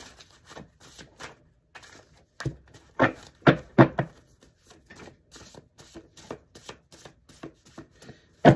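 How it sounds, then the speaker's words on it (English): Playing cards being shuffled up close, a series of quick riffling bursts and soft taps at an uneven rhythm, fairly quiet and without talking. "They're the hardest cards to shuffle."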